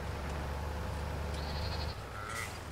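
Sheep and goats bleat on a farm in Farming Simulator 22, brief faint calls over a steady low hum of background game sound.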